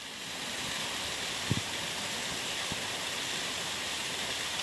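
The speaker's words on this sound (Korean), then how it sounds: "제주도 서귀포시의 원앙폭포." Wonang waterfall in Seogwipo on Jeju Island, a steady, full rush of falling water that stays constant throughout, with a couple of faint knocks breaking through the roar.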